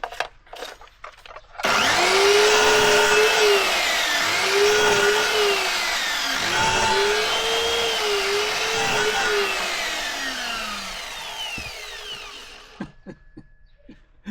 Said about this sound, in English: What about a chop saw?